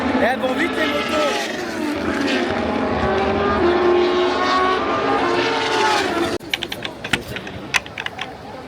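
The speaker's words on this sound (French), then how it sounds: "Elles vont vite les motos." Motorcycles roar past at speed in a steady loud engine drone that cuts off abruptly, leaving scattered clicks and knocks, while people chat nearby.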